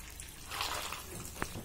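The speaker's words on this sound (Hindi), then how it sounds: "इसे बॉईल पानी में भिगो देंगे।" Boiled water is poured over soybean chunks in a bowl to soak them, making a soft continuous splash and trickle with one small drip near the end, fairly quiet and close.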